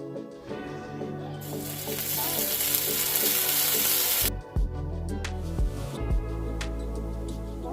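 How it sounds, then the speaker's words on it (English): Shrimp dropped into a hot pan with olive oil burst into a loud, bright sizzle that holds for a few seconds, then cuts off abruptly into a quieter stretch with low thumps and a hum. "We're just gonna simply add our shrimp."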